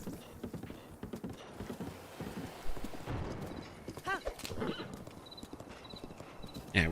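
A horse galloping in Zelda: Breath of the Wild, a fast steady clip-clop of hooves with a neigh partway through, under the talk of a player.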